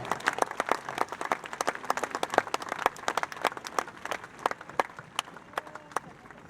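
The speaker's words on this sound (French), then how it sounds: "applaudissez à nouveau le jeune et talentueux Maxime Pascal" An audience applauds Maxime Pascal at a CIC two-star international equestrian event in Pau, with a loose, uneven patter of individual claps from a modest crowd, fairly close and sustained.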